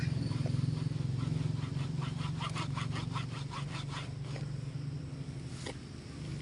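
A hand saw draws back and forth through wood in a rural province setting, steady rhythmic rasping strokes close by, over a constant low hum.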